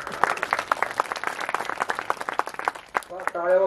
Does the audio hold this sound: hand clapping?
yes